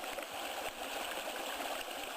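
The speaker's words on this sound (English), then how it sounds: "the Babbling Brook flows." A babbling brook flowing over ground, a steady close wash of trickling, gurgling water with no break and no voices.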